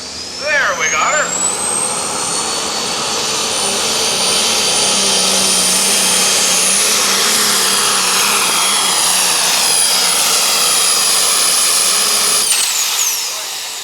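A truck pull engine roars at high RPM at a truck and tractor pull, a loud, sustained scream with a rising whine that holds steady before dropping away. A voice talks over it at the start.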